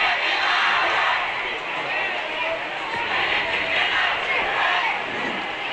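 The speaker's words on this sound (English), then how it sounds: "now the band is cheering, and we can hear them from all the way up here" A high school marching band and fans cheering in the stands at a football game between John Marshall and Medina, a loud sustained crowd roar heard from high up in the stadium.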